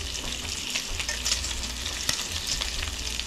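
Farmer John maple-flavored bacon frying in a pan, a steady dense sizzle and crackle, loud and close, with occasional brighter pops and no voices.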